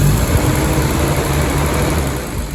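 Rebuilt engine of a WW2 Humber staff car running steadily near the microphone, a smooth, even drone with little change in pitch and no voices over it.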